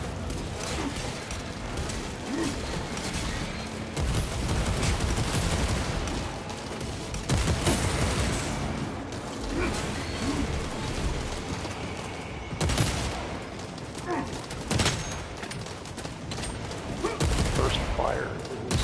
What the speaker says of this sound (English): First fire is with the bolter.